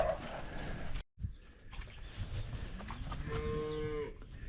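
Cows on a farm moo while being called up and sorted. Several drawn-out, fairly near bellows rise over a steady outdoor background, with the strongest, most tonal moo toward the end.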